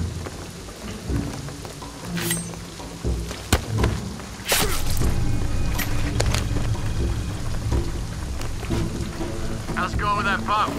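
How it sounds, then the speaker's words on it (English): Rain falling in Shadow of the Tomb Raider, a steady dense hiss of rainfall with rumbles of thunder and loud cracks, game dialogue faintly mixed in. "the rain is gonna flood this"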